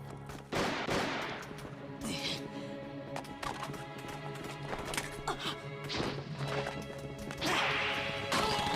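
Gunfire in an anime battle scene from Gundam SEED sounds as loud, repeated shots and impacts with crashing bursts, mixed with music and effects over several seconds.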